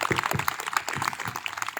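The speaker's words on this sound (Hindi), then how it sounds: "तो जोर से इन बच्चों के लिए ताली बजा दें मेहरबानी करके" An audience claps for children at a faith drama performance, a dense, steady patter of many hands close and moderately loud, with no other sound standing out.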